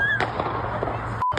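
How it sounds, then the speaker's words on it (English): Gunshots during the Florida State University campus shooting near the student union, several sharp loud bangs in quick succession at close range, with a brief silent gap before a final shot. "Gunshots blasted across campus."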